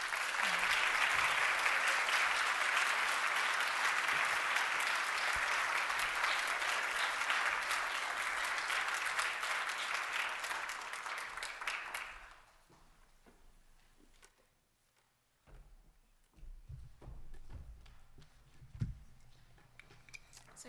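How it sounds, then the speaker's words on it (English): Audience applause after a talk, a dense, steady wash of clapping for about twelve seconds, then it stops and sparse sounds and a voice follow. "We can give Sonia another round of applause."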